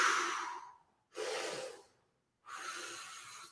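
Deep, audible breaths during a stretching routine, three long airy exhales or inhales separated by short silences, close and breathy with no talking.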